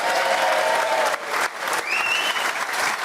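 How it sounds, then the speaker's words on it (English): Sustained audience applause fills a fans forum hall as three football club panellists are welcomed, steady and dense with a brief dip midway and a faint whistle near the end. "I think we should keep that applause going as we welcome our three panellists"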